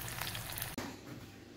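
Quiet, steady sizzling of cumin, green chilli, curry leaves and coriander frying in hot oil as a tempering for dhokla, a short continuous crackle with one brief break.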